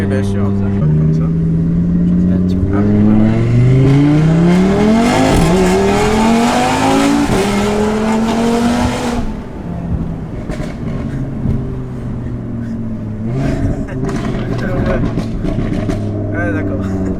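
Stage 4 Audi RS3 with a forged engine and over 700 hp pulling hard on a four-lane highway, a loud close engine note rising through the revs, then easing to a steady drone, with people talking inside the car.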